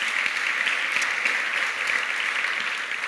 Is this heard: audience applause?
yes